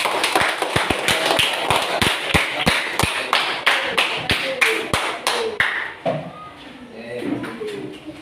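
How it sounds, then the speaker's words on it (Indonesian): A small classroom group claps for a student team, sharp distinct hand claps in a quick irregular rhythm that thin out and stop partway, followed by quieter room noise and murmured talk. "silakan tepuk tangan untuk kelompok 2."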